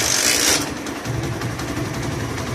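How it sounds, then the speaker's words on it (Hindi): A CD 70 motorcycle engine idling after starting, a steady low rumbling putter with a brief high hiss at the very start, running close and continuous throughout. "तो दोस्तों अब हम इसको स्विच को ऑन करेंगे तो हमारा बाइक स्टार्ट हो जाएगा।"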